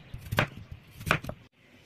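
A knife chopping potatoes on a cutting board, two or three quick, close thuds in separate bursts, quiet and alone.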